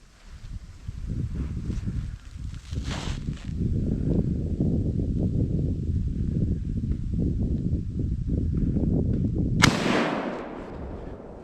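A single sharp rifle shot rings out near the end during a northern Minnesota deer hunt at a buck, a loud crack that follows a stretch of rustling, shuffling movement close by.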